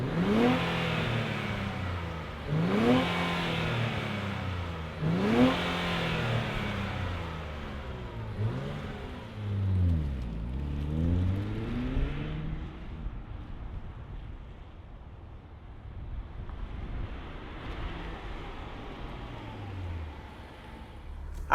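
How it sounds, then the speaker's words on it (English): A 2025 Nissan Z Performance with a twin-turbo engine starts and revs, giving several rising and falling blips close by, then settling into a lower rumbling idle with light wind noise and no talk. "let's fire this up and hear what the Z sounds like"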